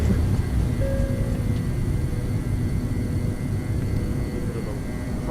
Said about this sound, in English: Crosswind takeoff there.